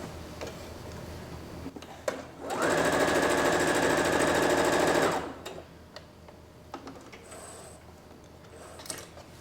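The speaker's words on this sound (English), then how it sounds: "And now we're gonna sew all the pieces together." A sewing machine stitches fabric pieces together in one loud, steady run of about two and a half seconds, set between quieter stretches of handling noise with no talk.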